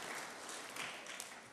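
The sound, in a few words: audience applause welcoming a speaker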